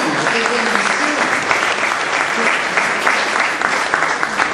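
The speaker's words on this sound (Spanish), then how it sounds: "un aplauso al Señor" A church congregation applauds steadily, a dense, continuous wash of clapping that fills the room throughout, with a few voices faintly mixed in.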